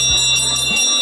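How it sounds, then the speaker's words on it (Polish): A small bell rung by hand indoors gives a bright, steady, high ringing that lasts about a second over a low background hum. "Dzwoń dzwonkiem."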